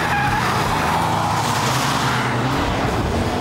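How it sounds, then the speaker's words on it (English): A car skids with loud, sustained tyre squeal through a handbrake turn on a test track, in a Mitsubishi Evo X FQ360 or Subaru Impreza WRX STi comparison, continuous and close for the whole stretch, with engine noise underneath. "Useless handbrake turn."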